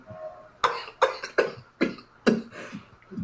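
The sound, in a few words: cough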